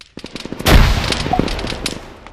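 Rapid bursts of gunfire crackle close and loud in the video game ArmA 3, with a heavy blast partway through and more shots trailing off.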